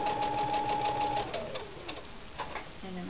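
A sewing machine back-stitches a seam on a fabric bow, its needle running in a steady fast mechanical whir that slows and changes pitch as the stitching reverses, close and continuous with no talk.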